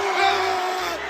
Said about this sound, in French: Donc toujours les hurlements et les cris de sadiques rigolards.